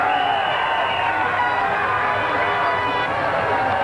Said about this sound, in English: All of France were cheering now